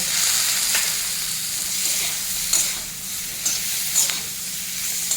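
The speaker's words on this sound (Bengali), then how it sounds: "টমেটোটাকেও একটু ভেজে নেবো টমেটোর একটা কাঁচা ভাব আছে ওটাও চলে যাবে" Tomatoes fry with spices in a pan, a steady close sizzle with occasional stirring scrapes and pops throughout.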